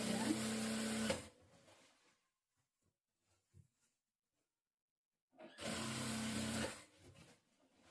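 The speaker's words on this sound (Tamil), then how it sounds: "ஸ்டிச் பண்ணிக்கிறேன்." A sewing machine stitching a double seam in saree lining runs in two loud steady bursts, separated by a quiet pause with faint handling clicks.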